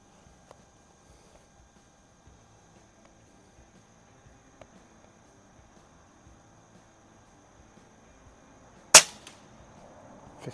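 A single sharp report from an Air Venturi Avenger air rifle firing JTS pellets at a 50-yard target, standing out once near the end against an otherwise quiet outdoor background with faint ticks.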